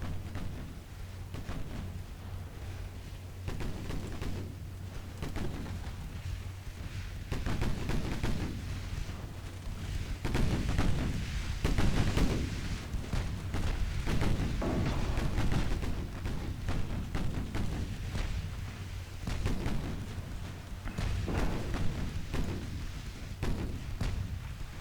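Battleship guns fire in the naval video game Ultimate Admiral Dreadnoughts, a string of deep booming salvos rolling out one after another over a continuous low hum of background noise.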